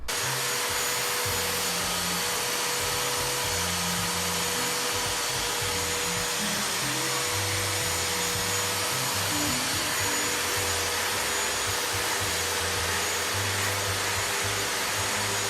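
A vacuum cleaner runs loud and steady close by near a deaf cat, its constant motor roar filling the whole stretch with no voices over it.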